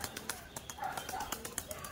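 Teddy pigeons held as quality breeding birds give soft coos and small rustling wing movements, with a string of light taps and flutters close by and no talk.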